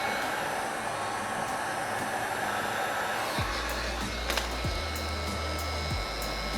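A heat gun blows hot air onto vinyl wrap on car side skirts, giving a steady loud whooshing hiss throughout, joined partway by a low droning hum with a couple of brief clicks.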